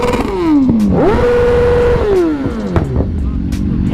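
Sport motorcycles, including a BMW HP4, idle and rev at a petrol station, with one engine sweeping up and down in pitch through two rising and falling revs, close and loud over a busy background.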